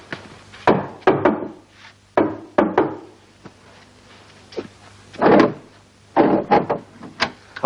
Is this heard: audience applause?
no